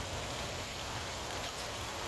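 Rain falls on a Texas afternoon as a steady, even hiss of drops on surfaces, continuous and moderately faint, with no talk.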